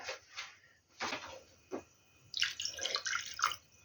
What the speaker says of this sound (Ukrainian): Ще трішки додам води.